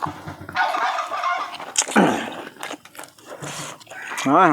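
A chicken calls nearby with a few short clucks and a rising, wavering crow-like cry near the end, mixed in with people talking in the foreground.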